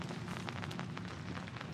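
Rain falls during river fishing, a dense steady hiss of drops pattering on surfaces, loud and close, with no speech.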